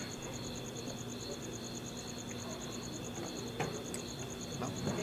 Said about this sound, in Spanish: Sí, los grillos se ven ahí.